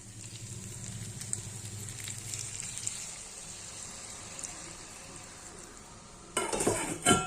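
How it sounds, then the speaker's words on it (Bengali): A pan of spiced curry sizzles and is stirred steadily, then water is poured in near the end, setting off a louder, sharper hiss and bubbling. "কষানো হয়ে গেছে এবার আমি পরিমাণ মতো জল দিয়ে দিচ্ছি"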